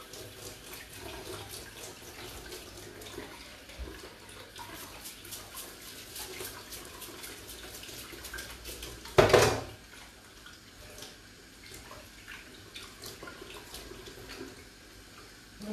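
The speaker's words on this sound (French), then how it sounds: "je me lave les mains" Water from a kitchen tap runs steadily and fairly quietly while hands are washed, with a brief louder splash partway through.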